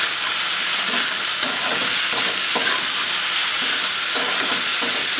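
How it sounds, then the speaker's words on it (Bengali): Vegetables for vegetable rice fry in a hot pan with a loud, constant sizzle and hiss. Light scraping and clinking from stirring recurs at irregular moments, close and alone with no talk. "সবজিগুলো আগে ভেজে নিই।"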